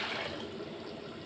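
Water is poured into a pot for boiling cut yam pieces, a short, close, steady splashing rush with no speech.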